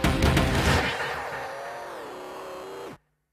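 An MTM-tuned Audi RS6 Clubsport with a twin-turbo V10, driving in snow, its engine roaring loudly at first, then holding a steady droning tone that shifts pitch before cutting off abruptly.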